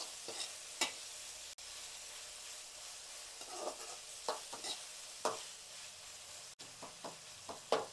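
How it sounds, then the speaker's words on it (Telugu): Egg pulao with tomato being gently tossed and stirred in a pan, with scattered scraping and clinking strokes of the spoon over a soft sizzle, irregular and close, no voices. "మళ్ళీ ఒకసారి అయితే మెల్లిగా టాస్ చేసుకుందాం, కలుపుకుందాం."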